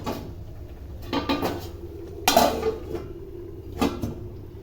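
A lid goes onto a cooking pot with a few metallic clatters, the loudest clank near the middle and a lighter knock toward the end, heard close over a low steady background.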